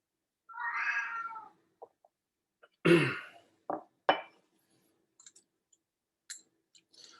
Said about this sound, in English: My cat does not approve of guessing.